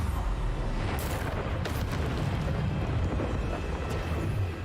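A Bombarda explosion spell in the Hogwarts Legacy video game, giving a dense, continuous rumbling blast with low booming weight and a few sharp cracks on top, loud and sustained throughout.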